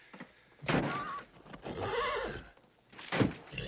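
A horse neighs and whinnies loudly in several bursts, close by, with a soft clop of hooves between calls.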